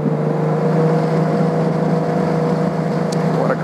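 A 1972 Triumph TR6 fitted with overdrive and performance upgrades drones steadily on a test drive, a close, continuous engine hum with a faint rising whine near the end.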